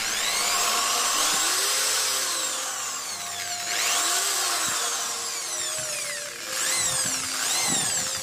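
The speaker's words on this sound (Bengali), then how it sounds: "তো দেখুন ড্রিল মেশিনটা আমরা পরিচালনা করে আপনাদেরকে দেখাচ্ছি" Electric drill machine powered by a homemade 1000VA 800W IPS inverter, whining loudly and steadily, its pitch sweeping up and down as the trigger is eased and squeezed several times.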